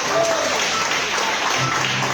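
A church congregation at an evening service applauds in a steady, dense wash of clapping that fills the room, with faint voices mixed underneath.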